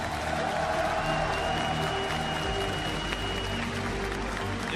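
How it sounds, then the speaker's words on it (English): Crowd applause and cheering fill a large arena at the League of Legends 2015 World Championship as the wildcard teams are introduced, with a steady, dense wash of clapping and a faint tone and voices over it throughout. "une dernière salve d'applaudissements pour les wildcards"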